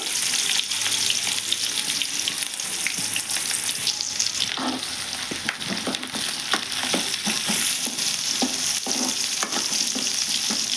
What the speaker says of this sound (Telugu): ఆయిల్ అయితే వేడయిందండి. నేను ఉల్లిగడ్డలు వేస్తున్నానండి.